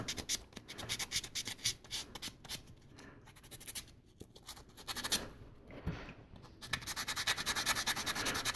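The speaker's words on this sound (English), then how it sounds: "Lots and lots of sanding." Sandpaper works over plastic model kit parts for a 1/72 Sinanju, with continuous quick back-and-forth rasping strokes, close and fairly loud, in a steady rhythm with brief pauses and no talk.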